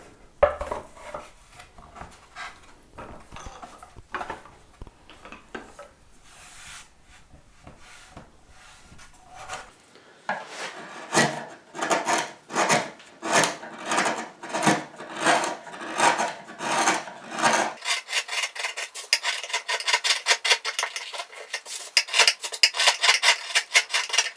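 A rasp carves the wooden body of an ES 335 guitar in a home shed workshop. Slow, uneven scraping strokes give way to quick, steady, rhythmic rasping that grows louder and brighter toward the end.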